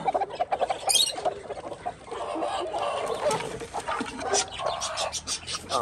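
Hens cluck in a farm coop, a close, steady stream of short clucks and squawks with a brief louder call near the start, over faint background rustling and no talking.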